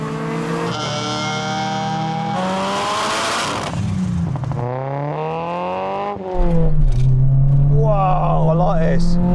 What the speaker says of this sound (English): Let's just drive up and down our runway, get some heat into the engines